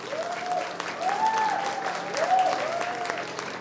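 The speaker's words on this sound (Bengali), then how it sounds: "তিনজনের জন্য একটা খুব জোরে হাততালি হয়ে যায়" Sustained audience applause for the dance coordinators at a Rabindra dance performance, with a tonal voice or music line drifting faintly through the clapping.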